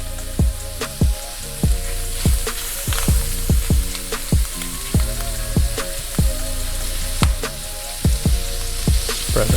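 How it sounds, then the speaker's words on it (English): Shrimp sizzle in about two tablespoons of butter in a pan, a constant close frying hiss broken by regular clicks of stirring and spreading. "we're gonna get this shrimp cooking. I got about 2 tablespoons of butter in here that I'm cooking the shrimp in"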